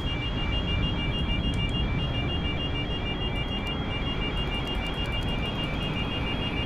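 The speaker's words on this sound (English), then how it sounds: "What's that alarm?" Cockpit alarm in a PMDG 777-300ER in Microsoft Flight Simulator 2020, a steady high electronic tone that sounds continuously over loud constant engine and airflow noise, with a few faint clicks.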